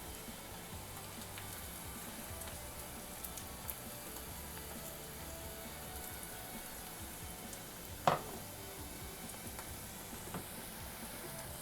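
Onions with green chili and ginger-garlic paste sauté in a pan for paneer masala dosa, giving a soft, even sizzle with a faint clink from a utensil partway through.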